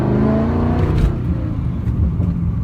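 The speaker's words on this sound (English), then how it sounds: "LS engines just sound really," A Pontiac GTO with an LS engine gives a steady, close, deep rumbling run of engine noise that rises and swells slightly, with no talk over it.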